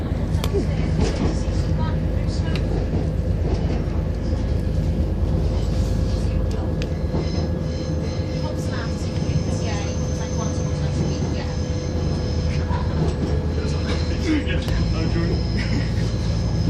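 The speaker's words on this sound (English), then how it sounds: "Another train." A train runs past a London Midland station platform with a steady low rumble and rolling wheel noise for the whole stretch, along with faint squeals and clanks, and no voices on top.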